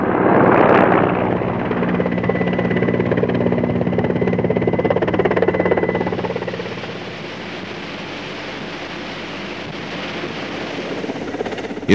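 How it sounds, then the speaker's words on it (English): Indian Air Force helicopter flying in the Siachen region, a loud, steady rotor and turbine roar that eases slightly partway through, with no one speaking. "IAF helicopters have played a key role"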